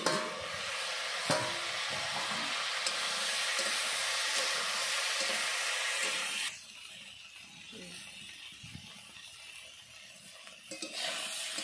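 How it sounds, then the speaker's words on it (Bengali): Vegetables for shukto frying in a pan, a steady loud sizzle and hiss for about six seconds, then dropping to a quieter, duller sizzle with faint clatter toward the end. "সবজিগুলো ভালো করে ভেজে নিয়েছি"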